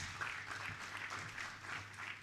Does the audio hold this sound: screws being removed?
no